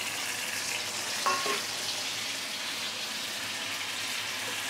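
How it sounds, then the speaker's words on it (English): Marinated prawns frying in hot vegetable oil in a wok give a steady, close, broadband sizzle with a short clatter as they drop in, then continuous hissing alone. "Once the oil has heated up, you can put in the marinated prawn."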